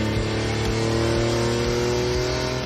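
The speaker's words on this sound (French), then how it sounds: "La pureté d'un moteur Atmo, d'un moteur comme celui-ci." A naturally aspirated 460 hp car engine revs hard and steadily on a drive through Burgundy, a loud, continuous mechanical roar close up with no voices.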